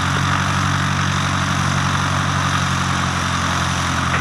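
A Cessna 152 light aircraft engine idles steadily while taxiing out at Leicester Airfield, a continuous loud low drone and rumble throughout with no talk.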